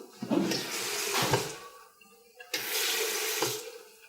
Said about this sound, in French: quand tu passes la main devant, ça lance l'eau